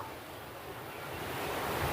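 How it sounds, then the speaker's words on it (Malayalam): Strongly rushing river water in heavy rain, the flooded Kalindi river in Wayanad, makes a steady, dense roar of broadband noise that builds slightly over two seconds, with no voices. "ശക്തമായ മഴയാണ് ശക്തമായ വെള്ളവും വലിച്ചെടുത്തോണ്ടും"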